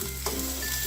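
Whole spices sizzle in hot oil in a pan for Bangladeshi beef rezala, a steady close crackle with a brief stirring scrape partway through and no talk.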